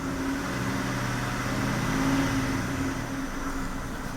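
The engine of a 2005 Kia Sorento with a check-engine light on and an ignition misfire fault is revved while parked. A steady, close, fairly loud drone swells slightly and then settles, with no talk.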